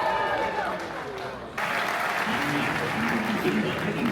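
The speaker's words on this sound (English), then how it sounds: "Now we can clap." Applause at a doctoral graduation ceremony, a large crowd clapping steadily and densely, swelling after a brief dip and continuing strongly with voices mixed in.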